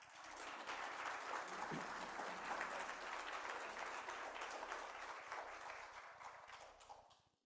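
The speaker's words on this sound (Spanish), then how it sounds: "Lo recibimos con fuertes aplausos," Continuous, dense audience applause welcoming a speaker to a geology seminar talk, sustained and fairly even before fading out at the end.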